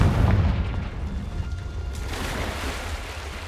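A Confringo spell explosion in Hogwarts Legacy on PS5 lands as a loud, deep boom at the start, then rumbles and fades into a lingering low roar, close and without talk.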